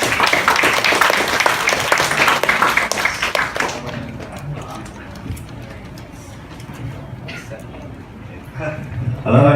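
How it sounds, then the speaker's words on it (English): A burst of applause from a workshop audience, loud at first and then fading, with a few scattered claps and murmurs near the end. "let's all give a warm round of applause to Mr. Manuel Schuster."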